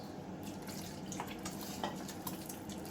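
Jalebi batter is worked by hand in a bowl, giving a soft, continuous wet squelching and stirring sound, faint and steady with a few small clicks.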